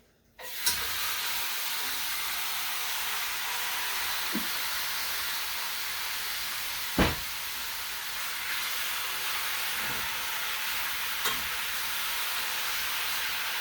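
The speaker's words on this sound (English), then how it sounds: "take that meat, put it in the iron skillet" Meat sizzling in a hot iron skillet, a steady broadband hiss that holds for the whole stretch with a few soft clicks and pops, no talk.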